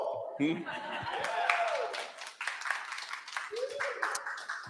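A small museum audience gathered for a poster and design talk offers scattered, faint clapping mixed with soft chuckles, with people talking over and around it.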